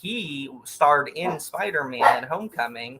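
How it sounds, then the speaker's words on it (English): Several dogs bark and yip in short bursts indoors, mixed in with someone talking over them. "Excuse the dogs."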